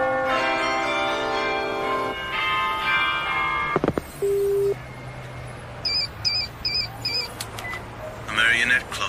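A marionette clock chiming in an anime scene: ringing bell tones open the passage, then short beeps, a low hum and a rapid run of pinging tones mixed with other effects.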